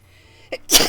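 A single close, loud human sneeze, a short intake followed by a sharp burst, alone in a quiet room.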